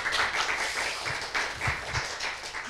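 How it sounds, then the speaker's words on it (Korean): A church congregation at a Sunday service gives a moderate round of applause, a soft steady patter of clapping heard from a distance without speech over it. "우리 여러분 우리 박수 치시느라 수고하셨습니다."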